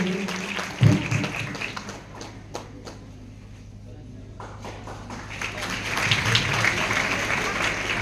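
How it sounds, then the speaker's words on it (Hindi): An audience at an event in Jaunpur applauds, with a sharp bump near the start, a dip in the middle, and clapping swelling again toward the end alongside nearby talk. "तालियां रुकनी नहीं चाहिए।"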